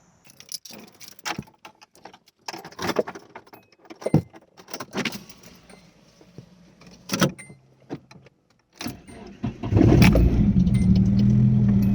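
Car with a full exhaust starting up after a series of keys jangling, clicks and door or handling sounds, the engine catching near the end into a loud, close, sustained rumble.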